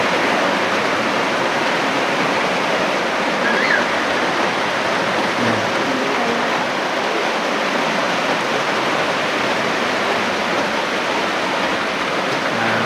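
Heavy rain pours steadily onto a house roof during a storm, a dense, continuous roar with no breaks, loud and close throughout.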